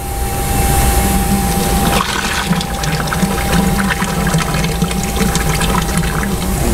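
Water is poured into a fine screen filter while making organic soluble potassium, a loud continuous close-up gush and splash that turns rougher and more bubbly partway through, with no talking.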